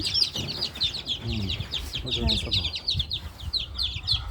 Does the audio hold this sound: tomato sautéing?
no